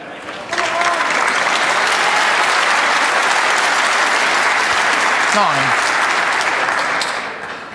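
A snooker crowd at the Northern Ireland Open applauds Jimmy White with a loud, sustained round of clapping that swells quickly, holds steady and then fades away.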